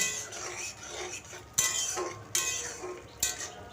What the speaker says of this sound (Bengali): খুব ভালো করে মশলাটাকে আমি কষিয়ে নিচ্ছি চিংড়ি মাছের সাথে আর আমের টুকরোর সাথে